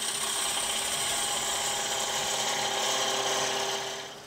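Steady whirring and scraping of a lathe tool turning and tapering a small scale-model hubcap, an even, continuous cutting hiss that fades slightly at the end, with no talking.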